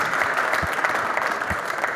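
Crowd applause at a bank pool match at the 2024 Derby City Classic, steady dense clapping from a large audience filling the room for the full two seconds.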